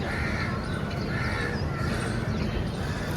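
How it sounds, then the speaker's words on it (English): Crows cawing outdoors in the morning over a steady wash of background ambience, with repeated caws at moderate distance and some faint bird chirps, no talking. "I'm gonna let you hear the birds chirping because that's what I wake up to every"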